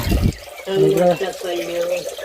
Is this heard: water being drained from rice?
yes